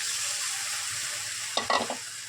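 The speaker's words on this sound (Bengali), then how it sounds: "দেখুন আমার কষানোটা হয়ে গেছে এবার আমি জল দিয়ে দেবো" Onion-tomato spice masala sizzles and fries in a pan, a soft steady hiss, then a short burst of louder crackling and stirring near the end as water goes in.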